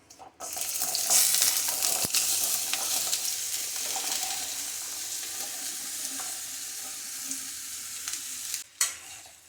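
Pumpkin and onion sauté in hot oil in a pan, a steady broadband sizzle with the scrape of stirring running nearly ten seconds, close and fairly loud, with a sharp knock just before the end.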